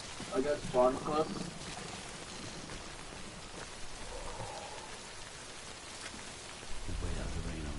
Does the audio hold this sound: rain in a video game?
yes